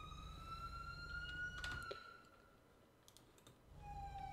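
Police siren in GTA V FiveM roleplay, a faint steady electronic tone that wavers and fades, with a few keyboard clicks and a brief thud mixed in.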